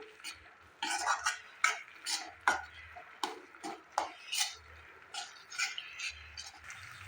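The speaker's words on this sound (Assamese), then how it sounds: "আৰু অলপ ভাজি ল'ম।" Spice masala stirred and fried in a pan with a splash of water, giving repeated scraping, clinking strokes of a spoon against the pan in an irregular rhythm, close and moderately loud over a faint low background.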